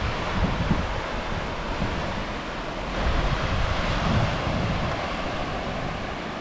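Ocean waves wash steadily onto Mahe beach in Kerala while wind blusters across the microphone, forming a continuous broadband roar that swells slightly midway, with no voices.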